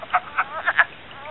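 Wood frogs call at a vernal pool, a small fishless pond, giving four or five short clucking croaks in quick succession, fairly close and clear.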